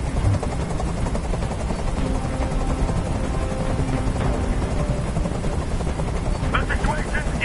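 A video game helicopter hovers nearby with a steady, loud rotor drone that fills the whole scene without a break.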